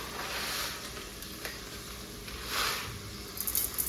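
Chopped onions sauté with salt in a pan, giving a soft, steady sizzle with faint stirring and scraping that briefly swells louder near the end.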